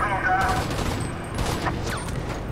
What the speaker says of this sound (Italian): Questi mi stanno a sparare.